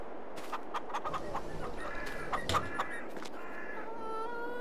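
Chickens cluck and squawk in Farming Simulator 22, several birds close by in a busy irregular chorus of short calls with a few drawn-out crows near the end, no talk.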